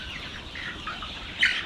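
Chickens on a farm clucking and calling in a steady, moderately close flock murmur, with one louder squawk near the end.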